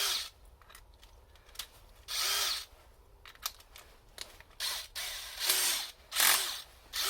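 A ratchet wrench tightens a bolt on a refurbished Triumph TR7 wiper motor in close, sharp bursts of rapid clicking, several short runs separated by brief pauses and quiet handling noises.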